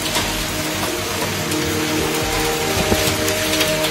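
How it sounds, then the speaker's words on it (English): Hailstones bigger than golf balls pelt down during a severe North Texas hailstorm, making a dense, steady rattling roar with scattered sharper hits throughout, loud and continuous with no voices. "This was definitely the worst hailstorm I've ever seen"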